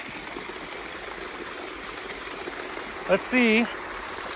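Creek water flowing steadily in a rainy woodland, a continuous close hiss and rush throughout, with a short spoken remark near the end.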